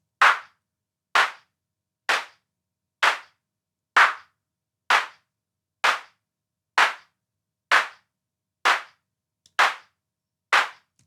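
Synthesized clap sound being shaped for sound design, repeating as a steady series of about twelve evenly spaced, crisp, bright hits roughly one per second, each with a short decaying tail and silence between.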